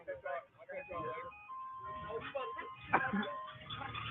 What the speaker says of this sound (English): They think I'm the back of the ice cream truck.